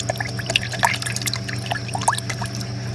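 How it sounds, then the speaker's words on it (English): Water is stirred around a Fungia coral sitting in a dip, giving a close, busy mix of small splashes, drips and trickles over a steady background hum. "But let's agitate the water a little bit."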